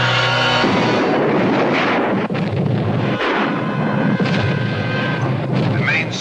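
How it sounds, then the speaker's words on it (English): A Japan Oil Company storage tank explodes in a Godzilla film scene: a loud, continuous roaring blast with rumbling booms and crackling debris, dense and close throughout. "Storage tank of the Japan Oil Company has exploded."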